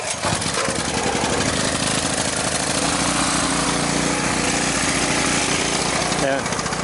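A petrol generator engine runs steadily while being choked, a loud continuous mechanical drone with faint hesitation, close by and alone throughout.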